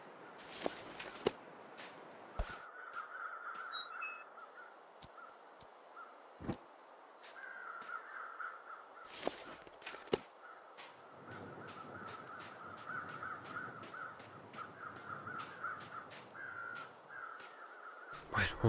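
Crows in the video game The Long Dark give scattered harsh caws over an outdoor wind bed, mixed with occasional sharp clicks and crunching footstep sounds, with no voices.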